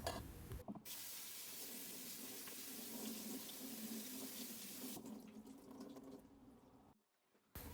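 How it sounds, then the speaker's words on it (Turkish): Running cold tap water pours steadily for several seconds into a sink, splashing over drained spinach held beneath it, then cuts off briefly near the end. "Soğuk su altında biraz soğuyana kadar yıkayalım."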